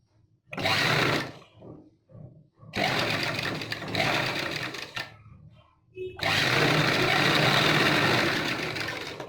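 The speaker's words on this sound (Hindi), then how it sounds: "अब ये बैठ गया हमारा, तो यहाँ पे सिलाई मार रहे हैं।" An electric sewing machine stitching around a blouse back neck, running in three bursts of rapid whirring stitches separated by pauses with light handling noises, loud and close, with a voice briefly heard in the gaps.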